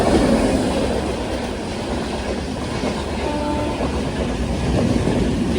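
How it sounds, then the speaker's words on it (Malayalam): Sabari Express passenger train rolling past nearby, a loud continuous rumble with steady clickety-clack of wheels on rail joints throughout, no voices. "ശബരി എക്സ്പ്രസ് ഇതാ കടന്നു വരികയാണ്"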